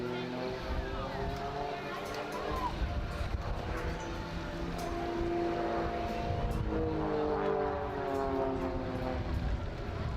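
Aerobatic aircraft flying a high-performance display at the Wales Airshow, a steady engine drone with rising and falling tones, heard under continuous commentary throughout.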